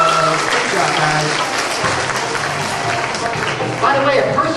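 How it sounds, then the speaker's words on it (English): An audience applauds steadily and loudly throughout, a dense wash of clapping close by with voices mixed in beneath it. "Give yourselves a round of applause."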